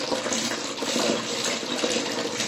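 Water poured from a cup over someone bathing, a continuous loud splashing and streaming that runs steadily throughout with no voices.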